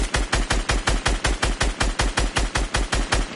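Rapid automatic gunfire in the video game Fortnite during a rush attack, a steady string of sharp, evenly spaced shots about five per second, loud and close, with no talk over it.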